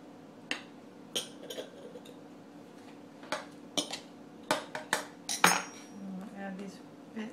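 A knife clicks and scrapes against a pie dish while trimming the dough edges of an apple pie, a series of sharp light clinks in an irregular rhythm, close and fairly loud.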